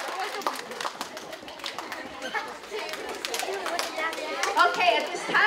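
Audience applause for a school essay-contest winner at an elementary DARE graduation ceremony, a steady wash of scattered hand claps with crowd chatter and voices mixed throughout, building slightly toward the end.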